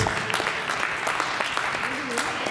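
Crowd applause for the score keepers at the final of a team competition, a steady wash of clapping over about three seconds with voices talking and calling out through it.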